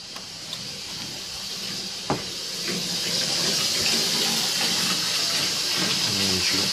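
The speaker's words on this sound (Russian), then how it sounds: "сейчас пойду посмотрю, вода в чайнике закипела или нет" Water in a kettle heating toward a boil gives a steady broadband hiss with a soft bubbling texture, under a single sharp click, with light background noise throughout.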